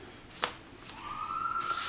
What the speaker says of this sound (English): Fake siren.